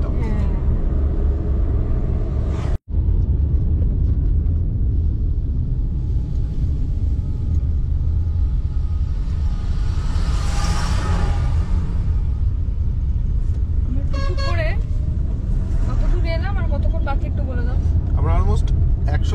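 A car on a road trip through the Eastern Ghats from Koraput toward Kolkata, with a steady low rumble of engine and road noise filling the cabin, a sharp break early on, and a louder rushing swell midway.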